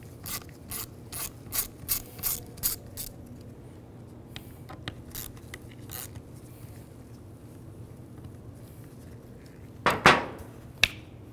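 Ratchet wrench fitted with a T20 socket backing out the screws on a steering wheel cover of a 2003-07 GMC, a run of quick close clicks followed by a pause and two sharper clacks near the end.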